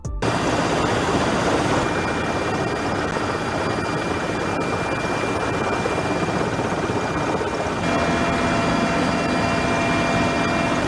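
A steady, loud engine roar fills the inside of a Russian gunship aircraft, a broad, unbroken drone with a high whine on top, heard close from within the cabin throughout.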